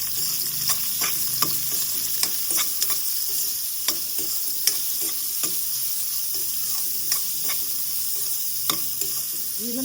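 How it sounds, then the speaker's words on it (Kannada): Big box-cut onion pieces fry slowly in oil in a pan over low heat for a pumpkin stir-fry, giving a steady close sizzle broken by regular scraping stirs and no talk. "ಇದನ್ನು ಅಷ್ಟೇ ಚೆನ್ನಾಗಿ ಎಣ್ಣೆಲಿ ಕಮ್ಮಿ ಉರಿಲೇನೆ ನಾವಿದನ್ನು ಫ್ರೈ ಮಾಡ್ಕೋಬೇಕು."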